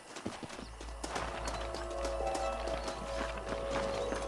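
Horses in the Red Dead Redemption video game clop along at a trot with a sharp whinny, hooves rhythmic and near over a low rumbling background.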